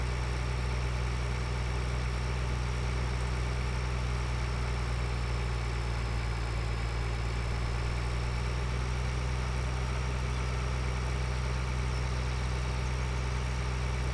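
A tractor engine runs in the farming video game Farming Simulator 2013, a steady, low, droning hum with no change in pace and no voices over it.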